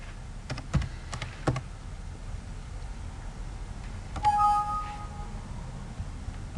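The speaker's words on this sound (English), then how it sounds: "I'm just typing back in the data we had." Quiet bursts of keyboard typing, a few quick clusters of key clicks separated by pauses, fairly close, with a faint beep near the end.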